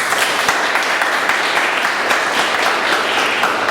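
Audience applause at a Bombay Toastmasters Club meeting: dense, steady clapping from a roomful of people, loud and close, sustained evenly throughout without any talk.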